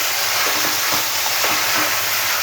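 Steady sizzling of mint, coriander and curry leaves sautéing in a pan for chutney, a continuous bright hiss with a few soft stirring scrapes, close and fairly loud, with no talking.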